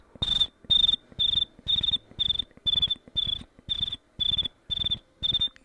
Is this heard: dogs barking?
no